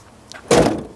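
Rear door of a leisure van with a bike rack mounted only on that door swinging open, a single close, fairly loud latch clunk and rattle, heard alone.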